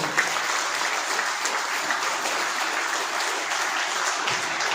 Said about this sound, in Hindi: इसलिए जोरदार ताली आप अपने हेल्थ के लिए बजाइए